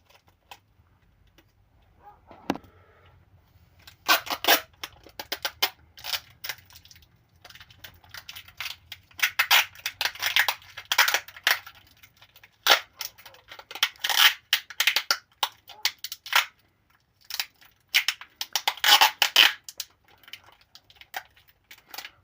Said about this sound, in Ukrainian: беру навіть звичайний скотч і просто скотчем зараз обмотаю це все діло.